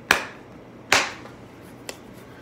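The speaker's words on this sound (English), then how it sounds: "Let me get a slow clap going on for NF" Three slow, deliberate hand claps, the first two sharp and fairly loud, the last softer and quicker, with near silence between them.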